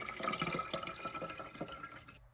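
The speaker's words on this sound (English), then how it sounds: "put a strainer on top of where you put your water and pour it in" Blended flax seed drink poured through a strainer into water, a steady close liquid trickle and splash that runs for about two seconds and then stops.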